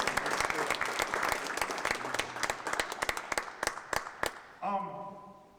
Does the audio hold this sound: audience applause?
yes